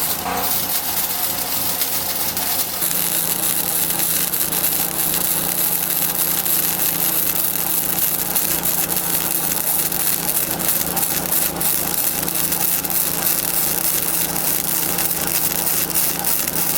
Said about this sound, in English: So I'm going to start tacking it in, and then we're going to weld it in place.